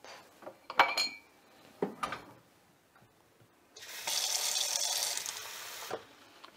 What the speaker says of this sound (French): On va mettre un petit peu d'eau.